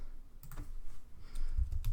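Someone types on a computer keyboard while entering data into a web register form: a quick, uneven run of close, crisp key clicks, with no voices.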